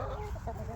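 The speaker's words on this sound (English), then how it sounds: "obviously it's a rooster" A dual-purpose homestead rooster clucks softly nearby, a short run of low, throaty clucks with no talk over them.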